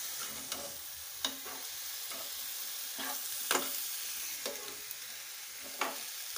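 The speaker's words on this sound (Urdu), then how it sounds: "اس کو مکس کر لیں گے پہلے، ادرک لہسن پیاز اور لوکی" Ginger, garlic, onion and chopped bottle gourd stirred in a hot pan for lauki sabzi, a low sizzle under a series of sharp spoon scrapes that come every second or so, close up with no voices.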